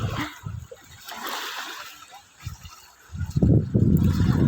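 A dog swims in the sea, its paddling sending up irregular splashes and sloshes, softer at first, then louder and more continuous near the end, heard close and outdoors with water movement throughout.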